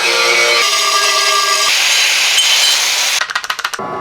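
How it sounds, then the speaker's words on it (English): A power saw cuts aluminum scrap metal, a loud close whine shifting pitch as the blade bites, ending in a rapid rattling chatter as the cut finishes. "I gotta cut the aluminum for where the camera is gonna go."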